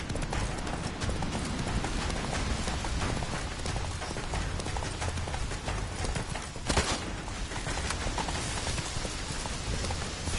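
Roach the horse galloping in The Witcher 3, rapid hoofbeats blended into a dense, noisy wash that sounds partly like rain, loud and continuous with no pause.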